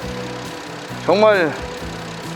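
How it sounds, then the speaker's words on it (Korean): A Hyundai Grandeur TG LPI sedan idles with a steady low engine hum throughout, while someone speaks briefly over it in the middle. "엔진 소리 한번 들려드릴게요"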